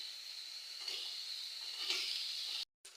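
Capsicum drops into vegetables frying in a pan, giving a steady, fairly quiet sizzle that swells briefly twice before cutting out near the end.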